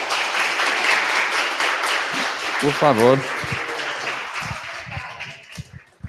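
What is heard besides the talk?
audience applause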